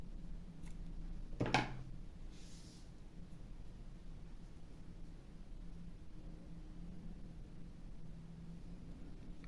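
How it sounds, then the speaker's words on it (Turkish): Scissors snip yarn during work on a bohemian crocheted cardigan: one quick, quiet cut near the start, followed by faint room hiss. "Buradaki ipi kesiyorum."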